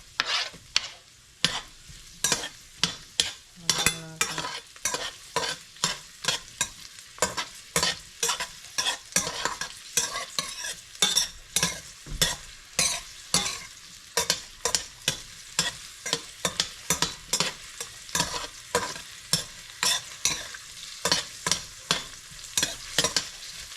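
Onions frying in a pan for a home-cooked vegetable lunch, with a steady sizzle broken by a long run of rhythmic stirring scrapes, close and fairly loud, and no talking.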